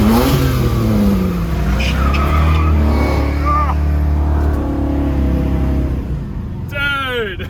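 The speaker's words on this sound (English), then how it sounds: "we're currently in Zach's HG Monaro. This thing is sick. It sounds incredible." A Holden HG Monaro fitted with a Barra engine and three-speed manualized auto revs hard from inside the cabin, loud and sustained with rising and falling engine pitch and tyre squeal, voices talking over it.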